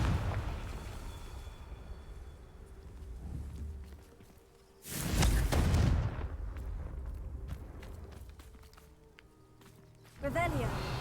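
A Confringo fire spell bursts in Hogwarts Legacy, a loud booming explosion with a crackling rumble that fades over a couple of seconds, followed by another burst later, amid game ambience and speech.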